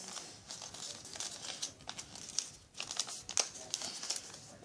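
A sheet of paper is folded for an origami tri star, giving close crinkling and crisp creasing rustles in short irregular bursts with no talking.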